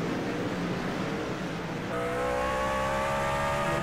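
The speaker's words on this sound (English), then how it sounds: "Can hear how much he's having to get off the throttle for turns number one and two" A V8 SuperTruck races through turns one and two at Sonoma, its loud engine roaring steadily before the tone shifts into a lower, more tonal note as the driver lifts off the throttle.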